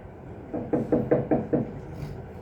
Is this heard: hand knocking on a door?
yes